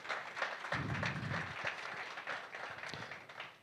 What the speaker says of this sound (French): On applaudit pour monsieur, s'il vous plaît.